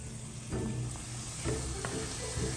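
Curry pakoras frying in hot oil over medium heat, a constant close sizzle and hiss with a few brief bubbling bursts as batter goes in.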